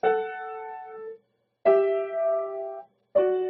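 Three piano dyads in parallel sixths struck one after another with short pauses, each ringing out and slowly decaying, sounding calm and open.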